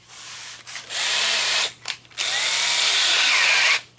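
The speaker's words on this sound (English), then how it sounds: "I've never used a spot weld cutter before" A spot weld cutter on a drill bores into a Jeep quarter panel, loud close whirring grind in three bursts, short then two longer runs, separated by brief pauses.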